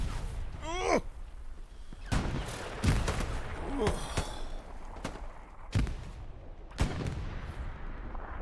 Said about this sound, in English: That's an unhealthy tank fight happening somewhere in this world.